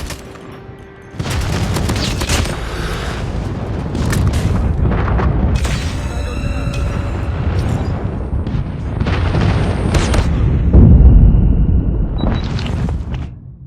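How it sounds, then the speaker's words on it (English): An airstrike in Call of Duty Mobile, a loud continuous roar of overlapping booming explosions and crackling gunfire that builds to a peak near the end before cutting off, with no talking. "Friendly airstrike incoming."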